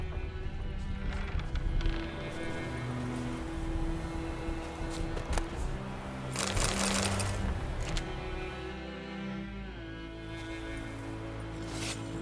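Horse hooves clip-clop steadily in The Witcher 3 game, a continuous rhythmic trot under ambient game sound, with a brief louder burst midway and no speech.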